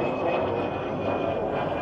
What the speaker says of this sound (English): This plane here is flying pretty much overhead.